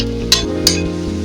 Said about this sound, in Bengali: বড়ি ভাজতে বেশিক্ষণ সময় লাগবে না